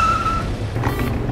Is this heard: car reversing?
yes